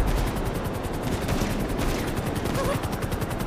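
Rapid automatic gunfire from the video game GTA 5 in a role-play session: a dense, steady stream of close, loud shots that barely lets up throughout.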